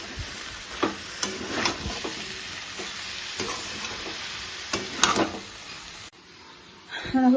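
Pre-fried young jackfruit pieces are stirred into cooked-down spiced masala in a pan, with repeated scraping strokes of the spatula over a soft, steady sizzle that stops briefly near the end before stirring resumes.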